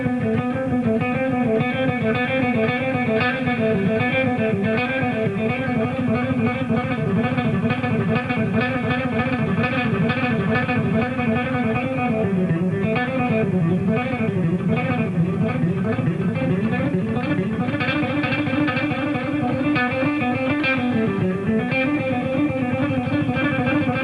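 Distorted electric guitar runs through combined sixteenth-note exercise fragments from a guitar lesson, a dense, steady, unbroken stream of fast picked notes with winding melodic shapes, loud and up close with no talk.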